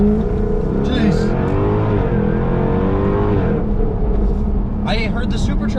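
Jaguar F-Type R accelerating from inside the cabin, a loud steady engine drone rising in pitch with a faint supercharger whine, while people talk over it.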